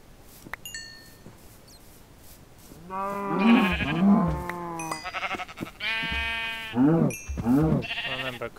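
Sheep in Minecraft bleat several times in quick succession, close and clear, with wavering cries following a few faint clicks and quiet moments.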